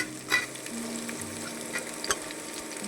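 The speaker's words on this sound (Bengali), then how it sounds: "এই পেঁয়াজটা ভেজে নেবো" Onions fry in a pan for a mutton liver curry, a continuous close sizzle broken by a few scraping stirs and soft clatters.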